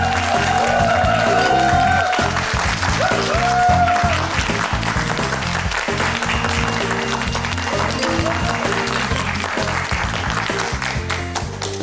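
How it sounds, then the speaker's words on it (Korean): Studio audience applause welcoming a guest to a lecture show stage, loud sustained clapping from a large crowd, filling the space evenly and slowly tapering. "여러분 큰 박수로 모시겠습니다."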